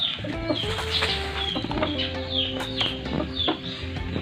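Chickens cluck and chatter in a busy flock, with short repeated calls overlapping against a steady low background hum.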